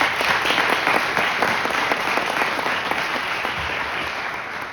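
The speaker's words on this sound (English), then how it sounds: "I think that in itself deserves a round of applause." A crowd at a building construction institute ribbon-cutting applauds a long-serving dean, a dense, sustained round of clapping that fades slightly toward the end, with no voices over it.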